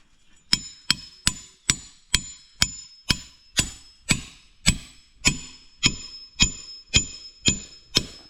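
A stake is hammered into the hard wood of a tree in about sixteen sharp, evenly spaced blows roughly half a second apart, each a loud, ringing crack close by, with no talking.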